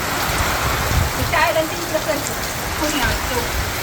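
Heavy rain drums steadily on broken metal roof sheets in strong wind, a dense close hiss with a few distinct drip taps, while a voice murmurs faintly underneath.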